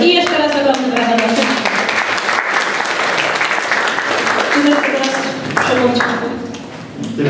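Loud sustained applause from an audience at a rural village theatre festival, with voices speaking over the clapping throughout, tapering slightly toward the end.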